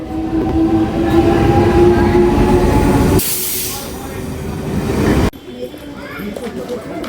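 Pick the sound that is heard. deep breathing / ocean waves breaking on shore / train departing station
train departing station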